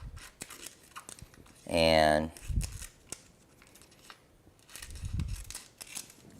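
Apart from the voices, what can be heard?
scissors cutting heat transfer vinyl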